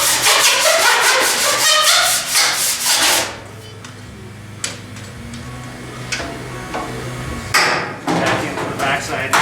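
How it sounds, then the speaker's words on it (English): A file rasps in quick rhythmic strokes across a pulled dent in a metal car panel. A loud burst of strokes gives way to a quieter pause with a few faint scrapes and knocks, then more strokes. "Actually, I'm going to file it first."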